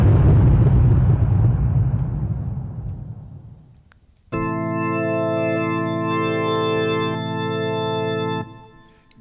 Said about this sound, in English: The explosion was a monstrous thing